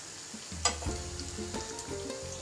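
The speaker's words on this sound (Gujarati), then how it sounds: "તેલ ગરમ થઈ જાય એટલે આપણે તેની અંદર 2 ચમચી જેટલું આખું જીરું એડ કરી દઈશું" Quiet, steady sizzling of about two spoons of whole cumin seeds in hot oil, with a faint clink near the start.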